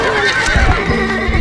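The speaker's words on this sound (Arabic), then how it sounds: "الفرس تعدو" A horse in the video game Stronghold Crusader whinnies loudly and close up, its neigh joined by a few low hoof thuds.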